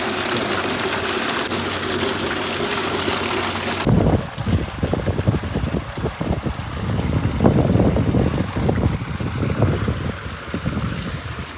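Water gushing from a tubewell pump into a farm field being prepared for onion seedlings, a steady loud rushing outdoors that begins abruptly partway through and churns on under wind noise.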